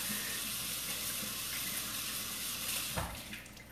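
Tap water runs steadily into a sink as slime is rinsed off hands, a continuous hiss with a small splash near the end.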